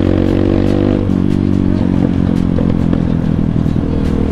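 A Kawasaki KLX supermoto motorcycle ridden on the road, its engine loud and close with a continuous droning tone that shifts pitch as it revs, plus rattling clatter and wind buffeting.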